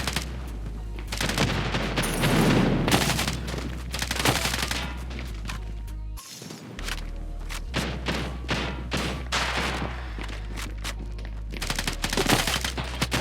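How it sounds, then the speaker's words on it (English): Rapid gunfire bursts and thuds in the mobile shooter game Standoff 2, loud and dense through most of the stretch, with a brief silent gap midway before the shooting resumes. "Stompit gonna drop a nice headshot onto A7 as well"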